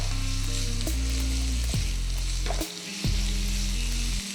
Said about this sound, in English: I will start adding the oil. Allow it to get cooked and to stir fry.